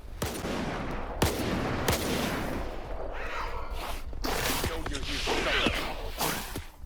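Shotgun blasts in Stalker 2 crack out as several sharp, loud reports spread unevenly across a few seconds, over rustling movement and background noise.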